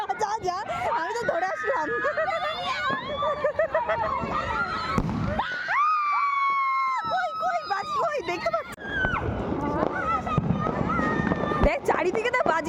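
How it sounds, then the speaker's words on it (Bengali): New Year's Eve fireworks go off all around at midnight, whistling rockets rising in pitch amid crackling bursts and pops, with people chattering nearby under the constant din. "চারিদিকে তো বাজি, ওইদিকে সব দিকে বাজি"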